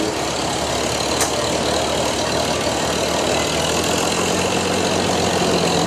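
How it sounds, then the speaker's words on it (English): A 1954 Farmall Super M tractor pulls a red wagon in a town parade, its engine a loud, steady rumble close by with broad outdoor noise and no talk. "Pulling this excellent red wagon, we have a 1954 Farmall Super M"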